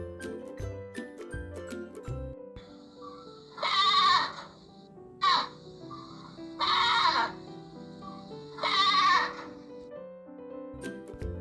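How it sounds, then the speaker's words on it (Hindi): A goat bleats four times in a row, loud and close, with soft music playing under the calls. "ये है बकरी, जिसे हम इंग्लिश में बोलते हैं गोट।"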